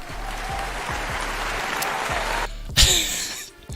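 A canned applause sound effect plays on a knife-themed livestream: a dense crowd clapping for about two and a half seconds, then a bright burst of cheering noise that cuts off abruptly.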